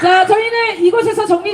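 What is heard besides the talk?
No everyday noises stand out.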